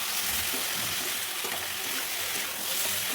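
A vegetable curry of potato, papaya, soybean and egg, seasoned with roasted cumin powder, chili powder, salt and turmeric, fries in a pan with a soft, steady sizzle and faint stirring, moderately quiet and without speech.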